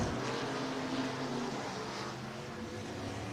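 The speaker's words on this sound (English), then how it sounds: "What a battle as we have 6 cars going at it here in heat race number 1 for your IMCA stock cars." IMCA stock cars in a six-car heat race at Sunset Speedway Park in Banks, Oregon, engines droning and roaring together in a continuous dense rumble, fairly distant and steady throughout.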